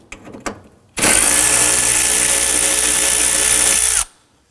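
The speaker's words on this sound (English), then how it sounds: "We're going to use our 10mm socket to go ahead and loosen and remove that bolt." A power tool with a 10mm socket loosens the hood prop rod bracket bolt on a 2005-2009 Subaru Legacy: a few faint clicks, then a loud, steady whirring drive for about three seconds that cuts off abruptly.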